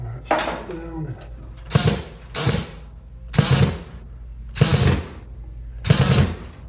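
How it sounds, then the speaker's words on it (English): Cheap screws are driven and strip out while a mini-split indoor unit is mounted, giving five or six loud, broadband grinding bursts about a second each with short pauses between, close up. "these cheap screws, they strip out real good"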